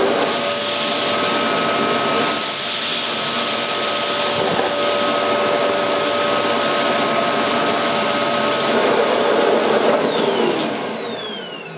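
A Goblin GCV301W bagless cylinder vacuum cleaner drones loudly and steadily with a high whine as its nozzle is pushed back and forth over carpet, and the pitch shifts slightly near the end.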